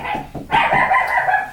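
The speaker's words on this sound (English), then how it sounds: "that's the dog." A dog barks indoors nearby, a few short, sharp barks followed by a longer, louder yelping call, heard alone without talk.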